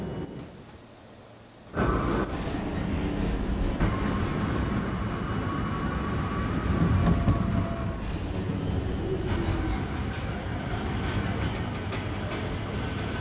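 Subway train on the M line in a train simulator game, rumbling and rolling steadily with a sudden loud onset, low mechanical drone and faint whining tones over constant track noise.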